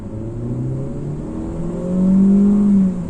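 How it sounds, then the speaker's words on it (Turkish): A Hyundai i10 with automatic transmission accelerating at full throttle, its engine drone rising steadily in pitch and growing louder near the end, heard from inside the car without talk. "Evet direkt drive modunda deneyeceğim. Bir manuel modda denemiyorum şimdi. Tam sıfırladık kilometreyi. Dip gaz yapıyorum."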